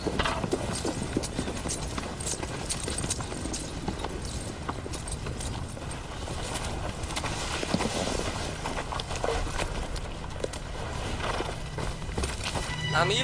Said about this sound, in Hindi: कुछ घोड़े सवार इस तरफ आ रहे हैं।